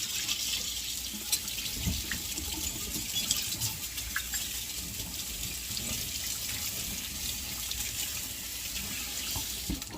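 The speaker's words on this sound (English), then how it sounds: "we're just going to wash this asparagus off really good" Tap water runs steadily into a kitchen sink while asparagus is washed, a continuous bright hiss with small splashes and clunks as the spears move under the stream.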